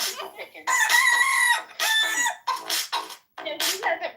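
A man imitates a chicken with his voice, loud nasal clucks and drawn-out crowing bursts in several close, uneven phrases separated by short pauses.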